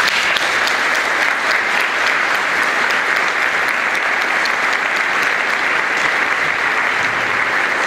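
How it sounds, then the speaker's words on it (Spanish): Steady, dense applause from an audience at a ceremony honoring the volunteer firefighters of San Carlos, sustained and even at close range throughout, with no speech over it. "Les pido un aplauso para ellos."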